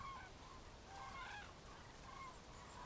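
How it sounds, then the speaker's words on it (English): Cranes wintering in a Mediterranean forest call in a faint, distant chorus of honking cries, rising a few times over a steady outdoor background. "The cranes find abundant food here, and compared to their breeding grounds, there's a lot more light and a lot less cold."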